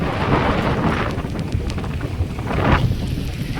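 Heavy rain and gusting wind sweep over a boat at sea on a fishing trip for conch, a dense, roaring wash buffeting the microphone with no clear voices.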